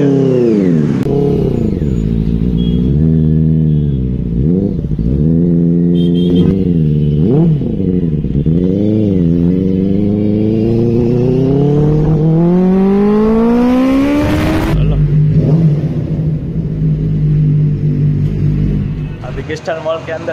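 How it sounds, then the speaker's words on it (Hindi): A Benelli TNT 600i motorcycle revs hard in public amid a traffic jam near a mall: a run of sharp throttle blips, then a long, loud climb in pitch before it drops back to a steady, rumbling idle. "एग्जॉस्ट की आवाज ही सुनेंगे।"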